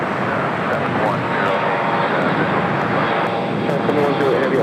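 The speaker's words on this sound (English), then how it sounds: "Next arrival is United Airlines Flight 502 coming in from Austin, Texas on the 737 MAX 8" A United Airlines Boeing 737 MAX 8 arrives at LAX from Austin, its engines producing a continuous, fairly loud jet rumble that stays steady through the short stretch.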